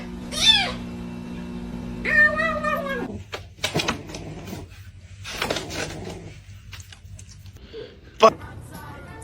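A cat meows repeatedly, with two drawn-out yowls followed by shorter calls and a sharp final cry, close and clear over a low hum and bits of background noise.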